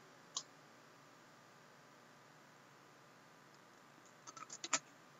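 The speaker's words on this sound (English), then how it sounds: "Gotta stand up and type." Keyboard typing done while standing: one isolated click, then a short burst of several faint, quick keystrokes near the end over steady background hiss.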